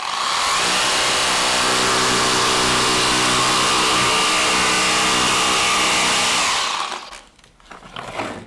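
A Bosch jigsaw fitted with a decking blade cuts through a board, a loud continuous buzzing drone that runs steadily for about seven seconds, then cuts out and winds down.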